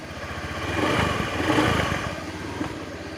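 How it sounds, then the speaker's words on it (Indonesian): An automatic motor scooter engine running on cooking oil in place of engine oil, idling smoothly with a soft steady drone and a gentle swell of revs in the middle. "Suara mesin halus."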